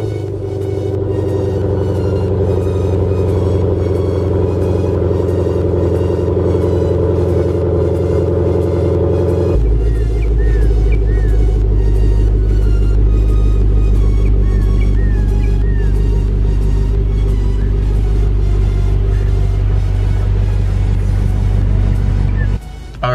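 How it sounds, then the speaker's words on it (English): A Lexus RC F or Toyota Supra engine cold-starting, then holding a loud, steady low rumble that drops into a deeper idle partway through and runs continuously to the end. "I will get the cold start for you guys"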